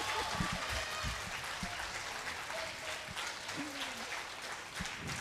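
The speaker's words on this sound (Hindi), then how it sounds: "खुल के ताली बजाओ लड़कियों।" Audience at a women's conference at the Arts Council claps in a loud, dense burst of applause that runs throughout, with scattered louder claps near the front.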